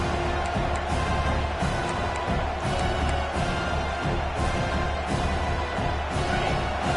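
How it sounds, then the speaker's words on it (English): A large college football stadium crowd roars during an away game at Arkansas, a loud sustained wash of noise with rhythmic surges, heard close and filling the space. "This crowd trying to make life miserable for this offense."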